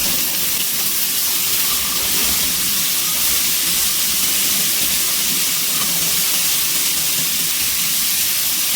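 Chopped capsicum and beans go into a hot pan for fried rice, setting off a loud, steady hiss and sizzle that holds evenly throughout with no talk.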